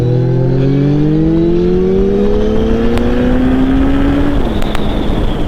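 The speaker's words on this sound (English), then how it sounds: "I want to try and get an exhaust note of you pulling away" A Suzuki Bandit GSF1200 motorcycle engine revs up steadily as it pulls away, its pitch climbing through the gears before easing off, loud and close with some wind rumble.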